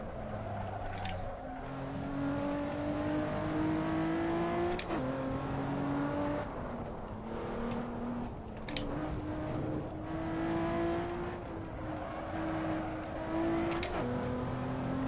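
A Lotus Exige V6 Cup racing car engine in a driving game, revving up through gears with rising pitch and abrupt shift drops repeating, loud and steady throughout without talk.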